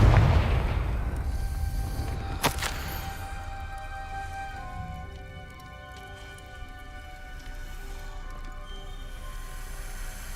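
A Confringo spell blast goes off in a video game with a sharp explosive crack, followed by a crackling, ringing tail that fades over several seconds, no voices.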